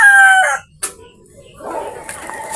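A young rooster about five months old lets out a short, loud, close crow, then gives a few quieter clucks and rustles on a farm, with no talking.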